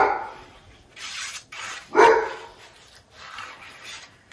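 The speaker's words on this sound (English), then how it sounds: "Everybody's getting home from work, so Nala has to bark at everybody." A dog indoors barks several short, sharp times in a quick cluster, the middle bark loudest, with quieter yips around them in an otherwise calm room.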